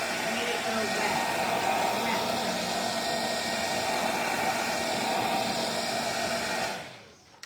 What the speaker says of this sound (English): this little hair dryer even made it bubble